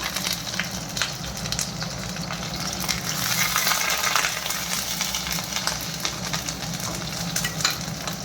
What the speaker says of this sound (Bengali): অল্প একটু পেঁয়াজ দিলাম।